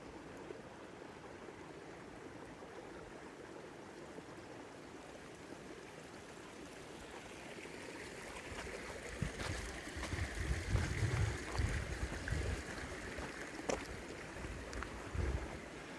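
Shallow mountain stream on a hiking trail up to Mount Rose Summit near Lake Tahoe, Nevada, running low with little water; a soft steady rush under outdoor wind, growing a little louder and closer partway through.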